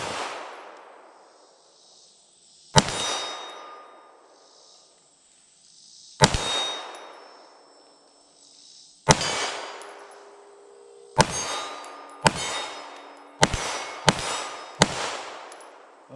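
Loud, sharp shots from a PSA Dagger pistol fitted with a compensator and firing 115 grain brass-cased rounds, nine cracks in all: three spaced singles, then a rapid string of six, each trailing a ringing metallic decay.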